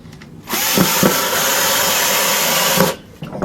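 A power drill backing screws out of a scrap wheelbarrow: one loud, steady whirring run of about two and a half seconds, close up, with brief pitch dips as the bit bites, bracketed by short quiet pauses.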